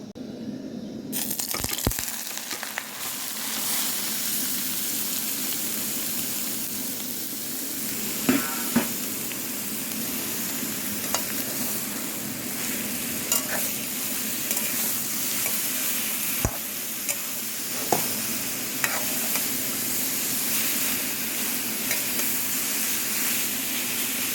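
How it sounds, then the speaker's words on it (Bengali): Grated carrots frying in ghee for a milk and khoya carrot sweet, a continuous dense sizzle close by with occasional clicks and scrapes of stirring, no talk. "ঘিতে গাজরটাকে ভেজে নেব"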